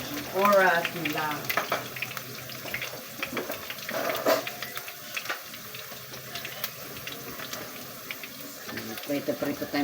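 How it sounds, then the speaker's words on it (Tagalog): Potatoes frying in a pan give a steady close sizzle and crackle, with clinks and stirring noises and a brief splash of water; people talk intermittently over the cooking. "Prito tayong patatas."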